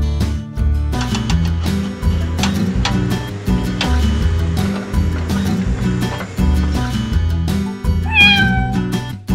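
A cat meows briefly near the end, over loud, busy music that plays throughout.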